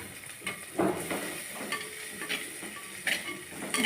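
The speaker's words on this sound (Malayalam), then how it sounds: "ചതച്ച ഇഞ്ചിയും ചതച്ച വെളുത്തുള്ളിയും കൂടെ ചേർത്ത് കൊടുക്കാം" Crushed ginger and garlic fry in a pan while a lentil rasam is cooked, giving a faint, steady sizzle with occasional soft stirring scrapes and clinks.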